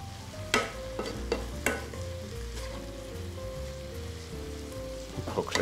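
Carrots and meat frying in a pan for a filo-pastry meat borek filling, with green onion being added; a steady sizzle runs throughout, broken by a few sharp clinks and scrapes of a utensil, with no talking.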